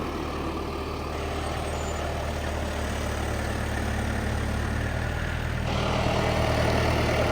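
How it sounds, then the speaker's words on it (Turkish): Tractors spraying fungicide across a large wheat field hit by rust disease give off a loud, unbroken engine drone with steady hiss, close by and with no voices. "4 traktör ilaç atıyor."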